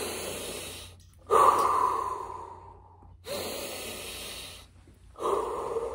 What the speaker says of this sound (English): I'm not gonna take 5 deep breaths because that would be too long. I took 2.